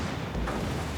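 Torpedo hits exploding against an enemy ship in World of Warships Legends, fired from the V-25's bow-mounted launchers, a loud continuous rumbling blast with dense low-end boom and no talk.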